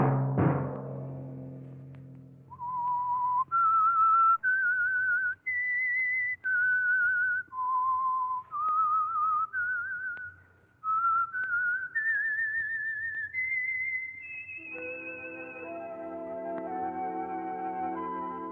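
A clear, melodic whistled tune, the Signal Oil radio program's signature whistle, with distinct held notes rising and falling, closing on a sustained note over a soft orchestral chord.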